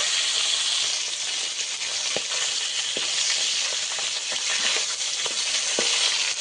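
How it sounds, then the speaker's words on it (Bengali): Fish pieces crackle and hiss in hot oil in a steady, loud sizzle, with occasional light clicks from a spatula or pan at irregular intervals and no voices. "মাছগুলো ভালো করে ভেজে নেব"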